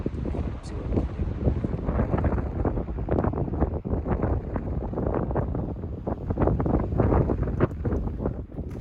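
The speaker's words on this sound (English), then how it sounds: "So it's super windy, super windy." Strong gusts buffet the microphone outdoors during a rifle hunt on the Arizona Strip, producing a loud, continuous low rumble with surging peaks and no clear talking.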